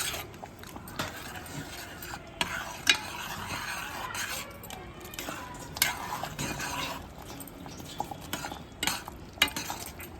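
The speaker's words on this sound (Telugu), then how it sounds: "గడ్డ కట్టకుండా కలుపుకోవాలి." Bombay chutney being stirred in a pan with a utensil so it doesn't form lumps, giving steady scraping and occasional clinks of metal on the pan, close and continuous with no talk.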